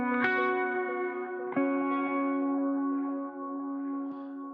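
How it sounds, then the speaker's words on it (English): Wah-effected electric guitar playing a single-string line in an indie rock / nu metal mix, DI and miked amp blended; sustained harmonic notes with two sharp plucked attacks, swept filter and reverb, steady and upfront without voices. "wah guitar comes back in, but it's single string stuff"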